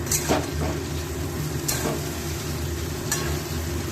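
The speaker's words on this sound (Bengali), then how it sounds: "এবার একটু ভালো করে ভেজে নেব।" Chicken with yogurt, tomato and salt fries in a pan, a continuous close sizzle broken by three or four sharp spatula scrapes spaced about a second and a half apart.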